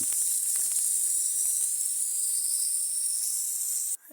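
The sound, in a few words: Japanese punti fish heads sizzling while frying in oil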